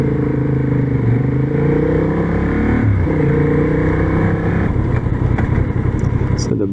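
A Honda CB750 Hornet motorcycle engine revs loudly and close during a test ride, its pitch rising and falling with throttle changes, with a rider talking over it throughout.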